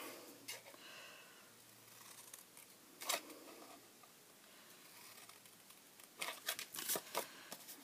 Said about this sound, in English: you're going to just cut those in towards the longer score lines on both sides.